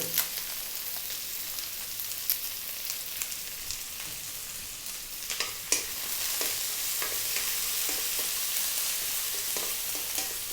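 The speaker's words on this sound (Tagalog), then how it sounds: "habang ginigisa natin to, mag-a-add po tayo ng laurel" Onion sizzling in a hot pan with a bay leaf added, for a Filipino coconut-milk chicken and moringa dish, as a steady frying hiss with occasional clicks and scrapes from stirring, close and continuous.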